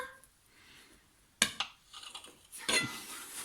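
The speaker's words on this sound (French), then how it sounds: "Alors, on coupe le gâteau." A flame-heated knife cuts through a homemade birthday cake, giving a few sharp metallic clinks and taps against the plate, separated by near silence.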